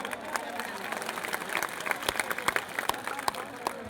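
Many people at a community meeting clap with raised hands, a lively scattered patter of claps with distinct sharp strikes, growing slightly stronger midway, with faint voices mixed in.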